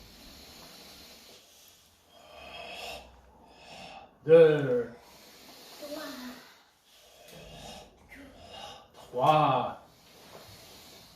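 Deep, forceful breaths during a karate exercise: several long hissing inhales and exhales spread across the span, with two sharp, louder breath bursts, and a voice counts aloud between them.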